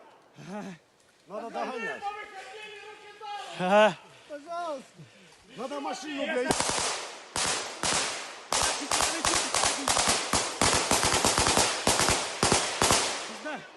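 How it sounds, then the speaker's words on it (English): Speech at first, then a rapid burst of sharp cracks of gunfire in a war zone in Ukraine, repeated irregularly and somewhat distant, with talking continuing underneath. "We hear some more gunshots in the distance."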